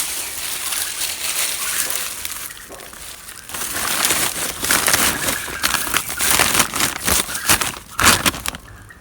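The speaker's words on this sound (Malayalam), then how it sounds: "അടുത്ത ലെയർ കരിയില വെച്ച് കൊടുക്കാം. പ്രസ് ചെയ്ത് വെക്കാം." Dry leaves are pressed down into a sack for soilless planting, making a continuous close crunching and crinkling that rises in bursts toward the end, with no voices.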